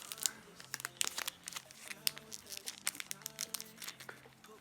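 Foil wrapper of a Pokémon trading card booster pack crinkles and tears as it is worked open by hand, close and irregular bursts of crackling rustle with brief pauses and a faint voice in the background.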